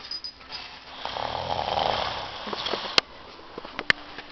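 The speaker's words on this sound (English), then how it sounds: "he snores hella loud" A person snores loudly, one long rasping inhale that swells and fades over a couple of seconds, followed by quiet breathing and a few sharp clicks of handling noise.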